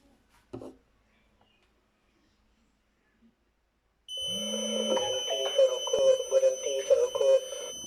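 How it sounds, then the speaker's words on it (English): A homemade cigarette smoke detector with an MQ2 sensor goes off: after an isolated click and a stretch of quiet, its buzzer and speaker set up a loud, steady electronic tone with pulsing beeps that continues to the end. "the buzzer and speaker will emit a sound"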